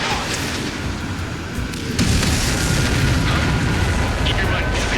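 An enemy transport blows up in the Ace Combat 7 flight game, a dense rumbling blast that deepens and swells partway through. A voice talks over the loud, continuous roar of battle.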